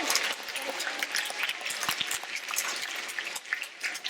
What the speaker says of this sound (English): I want you to give everybody a round of applause